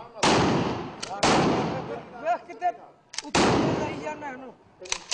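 Three loud gunshots from guards' firearms in Lahore ring out about a second apart and then further, each with a sharp crack and a long echoing tail, with brief voices between.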